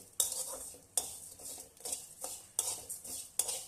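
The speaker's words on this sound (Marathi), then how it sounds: "शेव सुद्धा छान तुपामध्ये परतून घ्यायची." Vermicelli is stirred and roasted in ghee in a pan for kheer, with a spoon scraping and clinking against the metal in five or six distinct strokes over a faint sizzle, close and fairly quiet.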